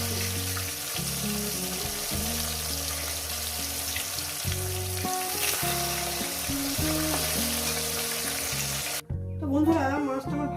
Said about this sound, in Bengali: মাছগুলো একেবারে ভেজে নিচ্ছি